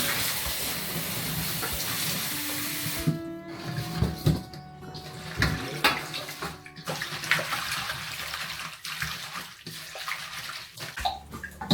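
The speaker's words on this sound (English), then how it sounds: "I make sure to wash the chives a few more times." Fresh chives are rinsed under a running tap in a rural Chinese kitchen. Water rushes steadily, with splashing and the occasional knock from handling.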